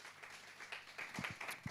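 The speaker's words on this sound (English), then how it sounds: "give them another round of applause" Faint, scattered applause from a workshop audience at a credit education event, soft continuous clapping with a few louder hand claps standing out near the end.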